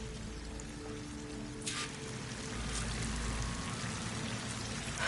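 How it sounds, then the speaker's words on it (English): A waterfall in the video game Horizon Forbidden West gives a steady, moderately distant rushing and pouring roar that swells slightly partway through, with no voices over it. "The waterfall must be coming from somewhere."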